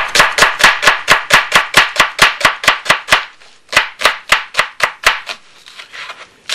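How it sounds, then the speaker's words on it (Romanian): Onion being chopped with a knife on a board, a fast, even run of sharp, loud, close chops, a brief pause, then another quick series of strikes. "Așa, tocăm ceapa pe..."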